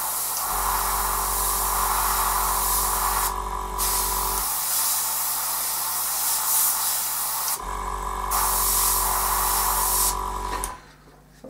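An airbrush sprays black GSI acrylic paint onto a Lynx AH.1 helicopter model, a loud close hiss running in two long bursts with a steady compressor hum beneath, pausing briefly between them.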